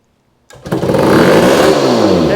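A revived, previously seized engine bursts into life after a moment of silence and revs hard, holding a loud, steady roar close by with no talking.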